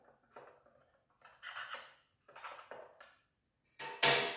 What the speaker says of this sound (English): Scrape it out.